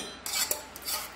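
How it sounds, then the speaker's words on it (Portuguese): A utensil scrapes quickly across a metal pan, a few short gritty strokes close by, with no talking. "E vai raspar a panela."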